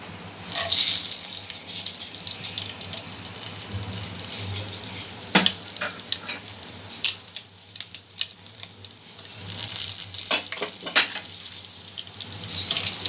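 Whole spices (green cardamom, cloves, black pepper, cinnamon, mace and bay leaf) fry in oil over low heat as a tempering for peas and paneer pulao. A soft, steady sizzle runs under occasional stirring scrapes and clinks, with no talking.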